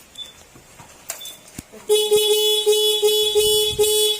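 A stock motorcycle horn sounds in a steady, bright blare for over two seconds after a few clicks and bumps, fairly loud and close.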